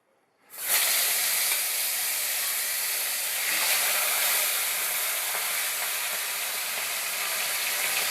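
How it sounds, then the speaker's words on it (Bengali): Climbing perch (koi fish) dropped into hot mustard oil, bursting into a loud, steady, hissing sizzle that carries on unbroken for several seconds with no voices. "আর দুটো আছে, এই দুটো ভেজে ফেলবো।"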